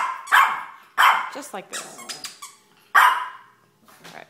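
Loud, close dog barks in three sharp bursts, with a person speaking briefly in between.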